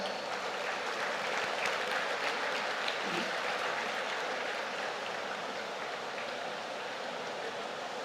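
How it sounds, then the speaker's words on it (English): Steady applause from a crowd at a university convocation ceremony, an even, rain-like patter of many hands held at a constant moderate level throughout. "they deserve one more round of applause"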